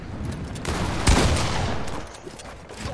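A thunder pump shotgun blasts once in a shooter video game, a loud sharp report near the middle amid a continuous din of other gunfire.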